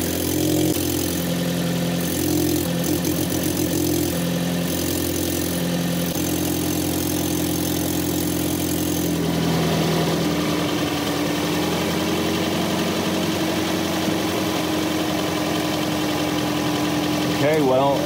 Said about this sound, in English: at a stop, with the engine running, it's fine.